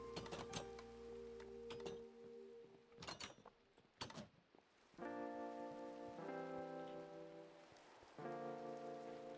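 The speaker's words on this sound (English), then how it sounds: "It literally rains inside my house." Minecraft rain falling inside a house, a steady soft patter running throughout, broken by several sharp clicks and bursts of bright tonal in-game sounds layered over the hiss.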